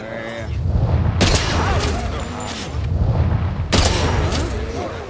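Gunfire in the video game 007 First Light: heavy booming shots with a loud crack, the first two seconds apart and the third after a longer gap, over a dense rumbling game soundscape with no talking.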